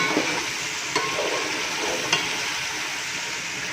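Chicken biryani masala sizzles and fries in a pan while it is stirred. A steady loud crackle runs throughout, broken by a few sharp clicks of the spoon against the pan, and no one speaks.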